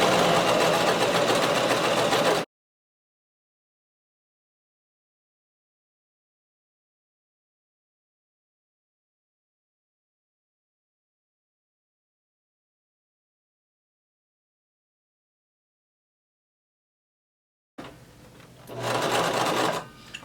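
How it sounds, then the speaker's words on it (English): A sewing machine stitching a seam down a gathered maxi skirt, a loud, close, steady mechanical whir in two bursts separated by a long silent gap. "now continue sewing all the way down"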